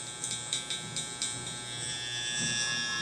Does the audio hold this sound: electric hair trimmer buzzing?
yes